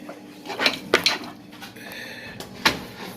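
Metal pot of rinsed meat for Nigerian pepper soup set down on a stove, a few sharp clanks and scrapes of metal against metal, close and distinct, with quieter knocks between.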